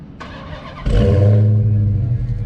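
A 2021 Dodge Charger SRT Hellcat Redeye started by remote start: a brief starter whir, then the engine fires with a loud, deep rumbling bark that settles into a heavy, steady idle close by.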